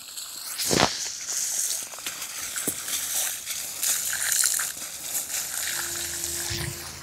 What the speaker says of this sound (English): I've basically put a dirty water pump into the pond